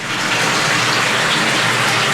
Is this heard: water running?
yes